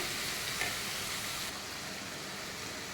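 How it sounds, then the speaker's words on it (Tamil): Tomatoes sautéing in a pan for Malabar biryani give off a steady, even sizzle and hiss close to the mic, fairly quiet, with a slight drop in level midway and no voices. "தக்காளி நல்லா அப்படி மூடி போட்டுட்டு இன்னும் கொஞ்சம் வதக்கிட்டு திரும்ப மூடி போட்டுடலாம்."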